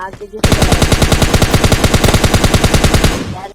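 Sustained automatic gunfire in PUBG Mobile Lite rattles out loud and close as a rapid, evenly spaced burst of about three seconds, starting abruptly after a brief quiet moment and fading out at the end.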